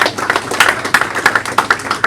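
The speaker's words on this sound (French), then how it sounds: "Nous applaudissons très très fort pour le Seigneur." A congregation at a funeral service clapping in a quick, steady rhythm, close and bright, with sharp repeated hand claps and no talking.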